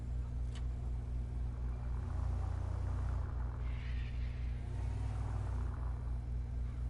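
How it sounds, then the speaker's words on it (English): A video-game car engine with off-road tires in GTA 5: a steady low rumble with a continuous droning hum, heavy and even throughout, with a brief higher whine in the middle. "I'm gonna do it with the music after the fact that I let you hear the car."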